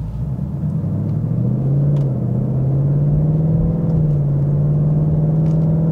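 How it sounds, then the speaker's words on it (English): A 2022 Ford Mustang GT premium with the 401A package pulling away in normal drive mode, its V8 a deep, steady rumble from inside the cabin that rises slightly in pitch and holds, loud and continuous with no talk. "setting off in the Mustang. We're going to start off here in normal mode"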